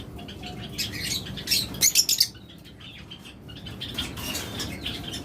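Budgerigars and lovebirds in a bird shop give off scattered high chirps and a short burst of twittering over a low, busy background murmur.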